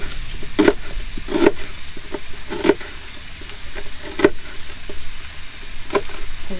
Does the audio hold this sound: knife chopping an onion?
yes